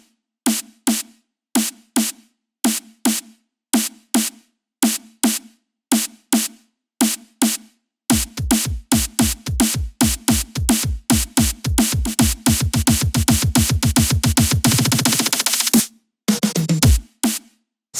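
Drum loop from a remix build-up: evenly spaced kick and snare hits, then a dense snare fill that rolls faster and faster into a loud, continuous burst before a few final hits. No one talks.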